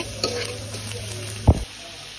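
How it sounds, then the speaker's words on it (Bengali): Onion, green chilli, salt, turmeric, chilli powder and cumin sauté in a pan in a village kitchen, a low steady sizzle punctuated by a light click and then one firmer scrape of the spatula. "এখানে আমরা পেঁয়াজ, কাঁচামরিচ, লবণ, হলুদ, মরিচ, পরিমাণ মতো জিরা গুঁড়ো দিয়ে কিছুক্ষণ কষিয়ে নিচ্ছি মশলাগুলোকে"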